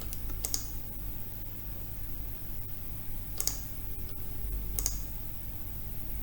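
Sharp computer clicks from a mouse during software setup, arriving as quick click pairs spaced a few seconds apart over a steady low hum, with no voices.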